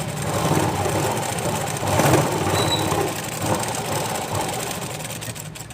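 A sewing machine stitches along the end of a blouse cloth, a continuous close mechanical whir with a rapid rattling rhythm that swells and dips slightly, with no voices.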